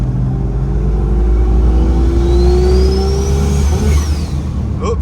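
Worn Jeep Cherokee XJ 4.0 engine with about 350k miles, revving hard at wide open throttle with ignition breakup, a loud steady engine drone rising in pitch and then stuttering near the end.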